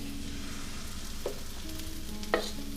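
A Swedish pancake sizzles softly in butter in a pan, a steady faint frying hiss broken by two brief scraping clicks from a spatula.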